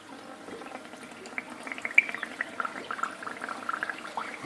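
Water drains from a reef aquarium during a water change, a faint gurgling and trickling that grows busier with scattered splashy bursts, low and close.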